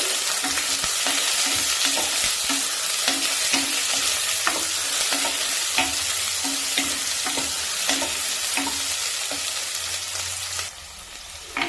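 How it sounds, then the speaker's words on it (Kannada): Onion and curry leaves, added with garlic and fenugreek for a dry fish curry, fry in a pan with a dense steady sizzle and rhythmic stirring scrapes, ending abruptly near the close. "ಮತ್ತೆ ಈರುಳ್ಳಿ, ಕರಿಬೇವಿನ ಸೊಪ್ಪು ಹಾಕೋಣ. ಇದು ಚೆನ್ನಾಗಿ ಫ್ರೈ ಆಗಬೇಕು."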